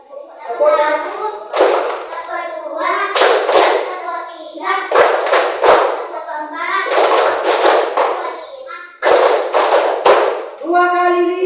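Children in a primary classroom clap hands in a rhythm game led by a male teacher, sharp bursts of claps in several quick groups, close and loud, with the teacher and kids' voices talking and chanting between them.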